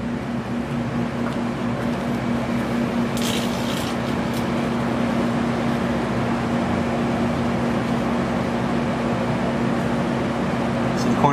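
A microwave oven runs with laptop parts inside, giving a steady, moderately loud hum with a constant tonal drone and a brief higher crackle partway through; no voices over it.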